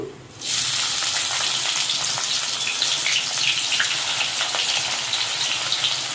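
Onions and green chillies hit hot oil in a kadai with a sudden loud sizzle, then a steady, dense frying hiss that carries on alone with no voices.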